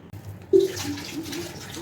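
Water is poured into carrot vadai batter in a kitchen, a short close splash and trickle that begins abruptly and fades into quiet mixing.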